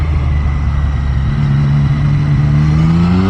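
A 2023 Triumph Street Triple 765 RS motorcycle rolls downhill with a steady, loud engine drone whose pitch slowly climbs, accompanied by rushing wind noise throughout.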